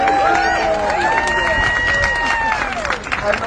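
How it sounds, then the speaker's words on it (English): Crowd applause for supporters at a disability supports rally, steady clapping and cheering, with voices and chatter mixed in. "let's have a big round of applause for all those people who supported us"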